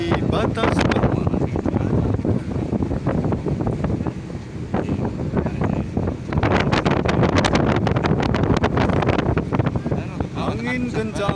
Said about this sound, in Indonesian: Angin kencang melebihi batas normal.